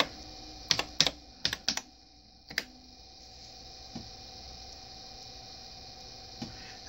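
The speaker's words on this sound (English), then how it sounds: "And then I can just type" Computer keyboard typing: a short burst of several sharp, close key clicks in quick clusters, followed by a couple of isolated taps over a quiet background hum.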